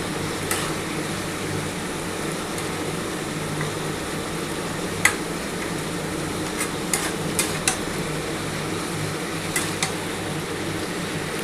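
A vegetarian cabbage curry stirred with spices in a pan makes a steady low hiss, broken by scattered sharp taps and scrapes of a utensil against the metal, with no talking.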